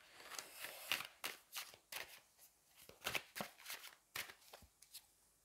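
Tarot cards are shuffled by hand at close range, a series of quick riffling and slapping bursts in an irregular rhythm, soft overall with no talk over them.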